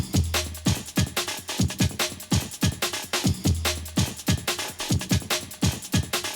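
A chopped funk drum break with punchy kicks and crisp snares, looping in a tight, choppy rhythm with a short low bass tone appearing twice.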